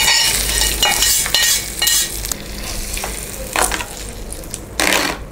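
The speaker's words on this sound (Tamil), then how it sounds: "இப்போ நம்ம இதை ஆஃப் பண்ணிவிட்டு தயிர் சாதத்தை கூட மிக்ஸ் பண்ணிக்கலாம்" A spoon stirs and scrapes through curd rice in a pan, mixing in a tempering of curry leaves and a dried red chili, with soft sizzling and occasional metal clinks. No one speaks.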